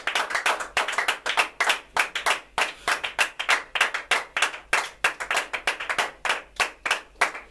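A church congregation claps in rhythmic acclamation during a worship service, steady and energetic hand claps filling the room with no talking.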